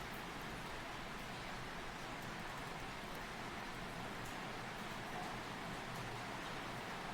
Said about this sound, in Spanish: Está lloviendo fuerte acá.